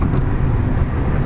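Inside a car on a road along Panama's Pacific coast, a loud low engine and road rumble fills a brief moment of driving.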